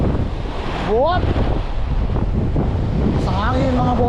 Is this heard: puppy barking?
no